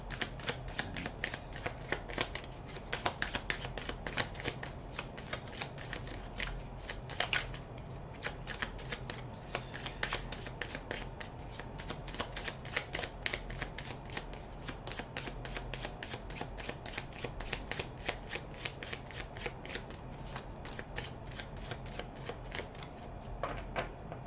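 Tarot cards are shuffled continuously by hand before a Celtic cross spread. The soft riffling and sliding repeats steadily without pause at a quiet, close level.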